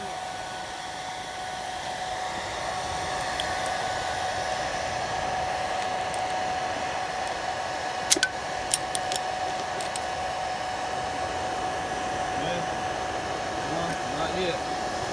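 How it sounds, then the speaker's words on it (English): A blow dryer roars steadily as it forces air into the coals of a quick homemade DIY forge, a constant close whooshing hiss with a few faint clicks partway through. "blow dryer going into the fire for some reason"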